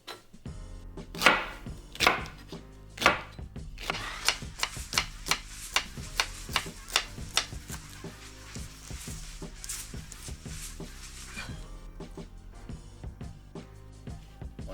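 Celery stalks chopped with a knife on a cutting board: a few loud, spaced thunks first, then a quicker run of sharp, even chops that fades into softer cuts, close up with no talking.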